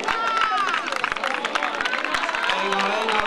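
Spectators clap and cheer at a road race, the urban mile and half marathon, with brisk claps and crowd babble mixed with an excited voice urging runners on.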